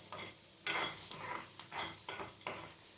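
Sliced capsicum frying in a pan with a light sprinkle of salt, giving a steady close sizzle broken by several stirring scrapes of a spoon against the pan.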